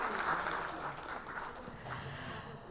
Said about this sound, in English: can we have one more bigger round of applause for the fact that we are all here in this room